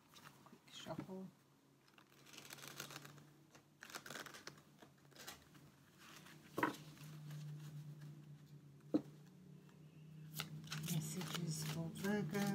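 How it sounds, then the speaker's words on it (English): Tarot cards are shuffled close up in quiet, irregular riffles and taps, with soft papery patters and a few sharper snaps against a low background hum, and no one speaking. "Let's give it another quick shuffle."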